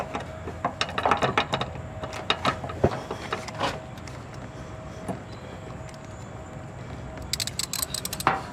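A ratchet with a swivel and long extensions works at a spark plug on a Subaru, giving uneven bursts of close, rapid clicking and mechanical rattles with quieter gaps between.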